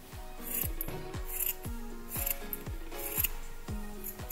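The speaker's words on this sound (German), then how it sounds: "Wenn ihr nun mit der Schere ausschneidet, schneidet ihr quasi zwei Kreise auf einmal aus." Scissors cut through paper, two circles at once, for a gift craft: a quick, regular run of crisp snips about two per second, close and clear with no talking.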